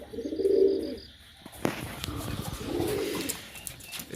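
Pet Tiger Giribaz pigeons give two soft, throaty bursts of cooing a couple of seconds apart, with a sharp knock between them and quiet background noise.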